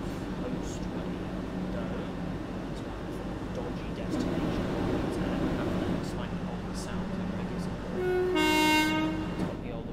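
Class 377 electric train in the Train Sim World 2 simulator, a steady rumbling hum of the train with a loud two-tone horn blast near the end.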